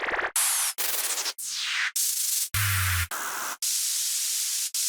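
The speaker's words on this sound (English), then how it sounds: "Just a white noise downlifter will do." White noise downlifter effects in a tech house production, a series of loud hissing bursts with falling sweeps, repeated several times with short gaps and one low thumping segment.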